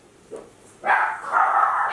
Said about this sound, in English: dogs will let you know when someone is at your house